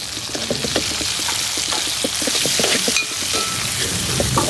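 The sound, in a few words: chicken curry cooking on wood-fired rocket stove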